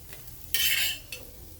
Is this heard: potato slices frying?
yes